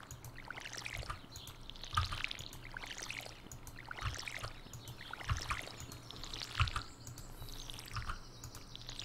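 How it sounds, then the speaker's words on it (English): Watering-can pour effect from Stardew Valley, a steady trickling splash repeating in short bursts every second or so over a quiet game background, moderately loud with no talking. "This water effect sounds too much like pissing."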